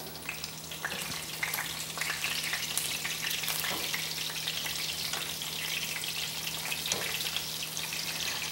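Game-day finger foods, browned on one side and turned over, fry steadily in a pan with continuous close sizzling and occasional crackles, no talking.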